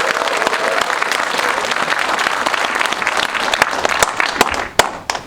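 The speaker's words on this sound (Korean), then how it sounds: "우리를 위해서 같이 한번 큰 박수 한번" A crowd at a Korean political party gathering bursts into loud, dense applause that thins out near the end into a few scattered, sharp claps.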